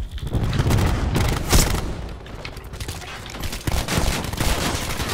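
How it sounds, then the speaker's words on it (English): Dense, loud bursts of rapid gunfire between teammates in the PC shooter Call of Duty Black Ops 4, with overlapping shots and booms packed into a few seconds. "These guys shooting at each other, teammates"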